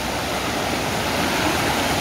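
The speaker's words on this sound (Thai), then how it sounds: "น้ำตกที่เราเดินไปมาเมื่อกี้มันก็จะไหลมาทางนี้นะคะ" A stream fed by the Jet Khot waterfall in a Thai forest rushes steadily, with close, loud, unbroken water noise and no voices.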